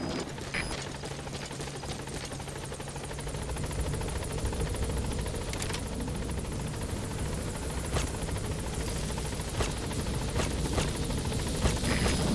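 A support helicopter in Metal Gear Solid V arrives at a landing zone, its rotor thudding in a steady, continuous chop that gradually grows louder and closer, with mechanical clicks in the game mix.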